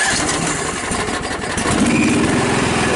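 A ride-on lawn mower engine that still needs a little choke runs loud and close, with a rough, slightly uneven throb that steadies toward the end.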